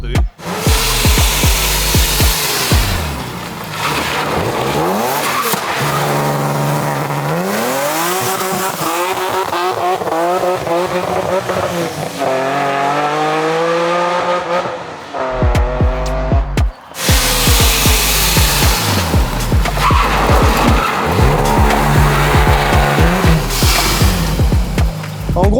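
A 1000 hp all-carbon BMW M4 launching hard, the engine screaming through rising revs with wheelspin, backing off midway, then roaring again at full throttle, loud and close.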